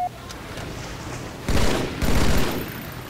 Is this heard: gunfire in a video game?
yes